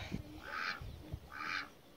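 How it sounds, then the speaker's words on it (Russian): Two nasal quacks from ducks nearby, spaced about a second apart, over quiet background. "Вот и уточки"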